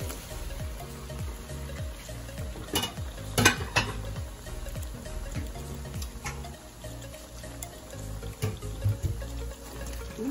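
Pork hitting a hot pan for menudo, a steady sizzle with stirring scrapes and clinks of a utensil against the pan, one brighter clatter partway through, no voices.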